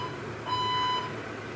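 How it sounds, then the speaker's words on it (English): A fire alarm beeps at night, a single sustained electronic tone lasting about half a second over a steady background hum, moderately loud indoors. "the fake alarm,"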